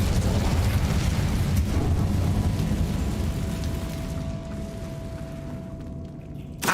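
An Incendio fire spell cast in Hogwarts Legacy bursts out as a loud, rushing whoosh and rumble that fades gradually, leaving a thin lingering tone before a short pop at the end.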